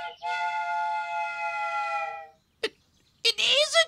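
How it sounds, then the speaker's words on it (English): A toy train whistle hoots in one sustained, slightly wavering tone, followed by a short click and a brief squeaky burst. "Is that a choo-choo train?"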